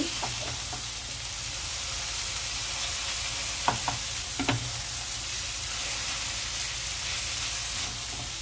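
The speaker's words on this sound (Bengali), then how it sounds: "ব্রকলি আর চিকেন একসাথে ভালো করে ভেজে নিচ্ছি।" Broccoli and chicken frying together in a pan, a steady bright sizzle running throughout with a few soft stirring clicks near the middle, close and even, no talking.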